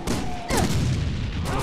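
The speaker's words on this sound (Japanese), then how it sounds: "爆発した。" A burst of explosions and blasts in the video game Resident Evil 6, a sharp boom followed by rumbling debris and layered game noise, loud and continuous.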